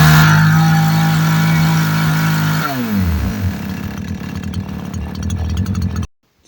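A Radley 52cc petrol chainsaw runs loud and close, holding a high steady rev before dropping down and rumbling at lower, uneven speed, then cutting off abruptly.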